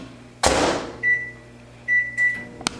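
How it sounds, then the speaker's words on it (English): A microwave oven reheating food: a door-like clunk, then a steady hum with two sustained tonal beeps partway through and a sharp click near the end. "15 seconds in the microwave was not quite enough"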